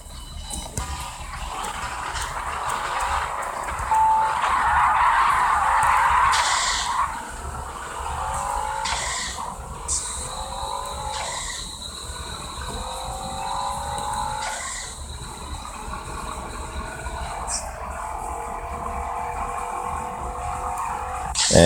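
Drag race car on nitrous in Drag Battle Racing: a loud engine roar climbs in pitch through repeated gear shifts, each shift a brief dip before the whine rises again, sustained throughout.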